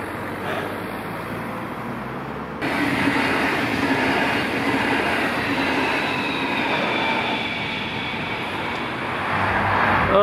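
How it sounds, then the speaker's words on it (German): A train rolls past a railway level crossing in Altingen, Germany. It is heard from the roadside on a bike tour as a loud, steady rumble with a rising rush that starts abruptly and sustains throughout, with faint wheel squeal near the end. "an der Bahnschranke warten, da kommt ein Zug"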